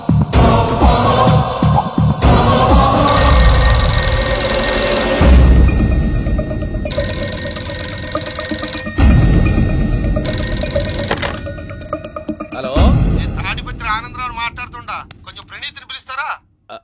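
A telephone bell rings loudly in repeated bursts during a comedy film scene, layered over music and lively talk before fading near the end.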